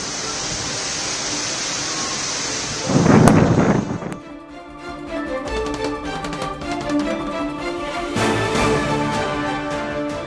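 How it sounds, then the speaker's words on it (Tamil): Heavy rain pours down during flooding in Uttar Pradesh, a steady loud wash of noise that swells in a sudden roaring burst like a thunder crack, then gives way to quieter rain under a faint droning background. "உத்தரப்பிரதேசத்தில் தொடரும் கனமழை."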